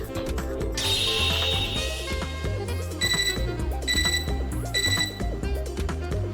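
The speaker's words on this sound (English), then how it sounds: "Right as I leave the classroom, I hear an electronic noise from my portable terminal." Repeated electronic chimes from a portable terminal in the game Fate/Extra ring out in short bursts over busy game music, a bright beeping pattern sounding three or four times.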